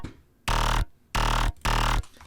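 Bass line with a resonator effect layered on it, three loud, dense, buzzing notes with a heavy low end and ringing upper texture, separated by brief gaps, close and alone.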